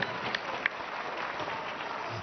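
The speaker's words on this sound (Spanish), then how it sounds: "El aplauso que se oiga fuerte para Brenda Valderas y Montserrat Raya." Audience applause at a women's boxing fight, a steady broadband wash of clapping from a crowd in the arena, continuous and fairly even for the whole stretch with a few sharper claps near the start.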